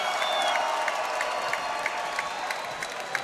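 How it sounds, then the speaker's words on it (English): Crowd applause in a venue after a lightweight championship title fight, a steady layer of clapping and cheering with faint repeating taps over a constant background roar. "come on, one more round of applause for a great title fight."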